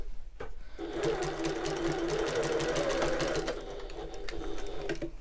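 Sewing machine basting a fabric label into the seam allowance of a bag: one continuous close run of fast mechanical stitching lasting several seconds, steady and moderately loud, alone without talk.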